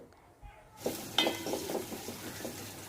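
Baim fish hits hot oil in a pan and starts frying, with a sudden rise into steady sizzling crackle, punctuated by a few clinks of utensils against the pan, fairly close and moderately quiet.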